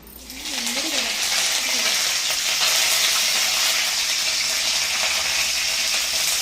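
Onions and curry leaves hit hot oil in a pan, and a loud sizzle swells up within the first second and then holds as a dense, steady crackle. A voice speaks briefly at the start.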